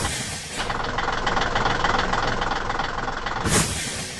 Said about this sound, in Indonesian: Truk semen biru datang melintasi jembatan kayu untuk bergabung dalam proyek ini.